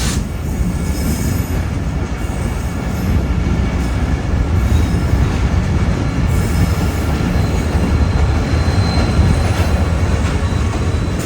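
Mehran Express, a passenger train between Mirpurkhas and Karachi with an HME locomotive in the lead, passes close by with a loud, steady rumble of wheels on rails and faint squealing throughout.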